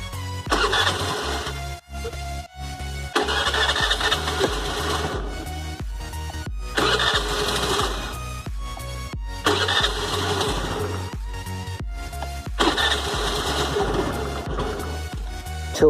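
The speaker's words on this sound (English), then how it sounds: "the self motor is struggling a little bit hard" A scooter's self-starter motor cranks hard after six months of sitting unused, struggling to turn the engine over in several long, loud grinding bursts separated by short pauses, with no talking.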